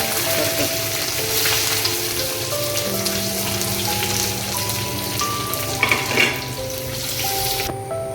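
Dried red chillies, curry leaves and coconut fry for a breadfruit masala curry, a dense, steady crackling hiss like rain, with a soft melody of held tones running underneath.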